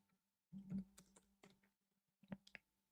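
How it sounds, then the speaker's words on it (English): Bursts of computer keyboard typing at close range, a flurry of keystrokes at the start and a short cluster near the end, with quiet pauses between and no talk. "you could just record, and I'm typing"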